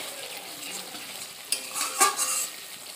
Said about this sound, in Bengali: একটু কষিয়ে নিলাম।